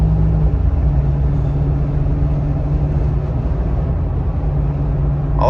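A restored Jeep Cherokee XJ engine drones steadily while driving, a loud, close, low rumble with a constant tone and no talk over it.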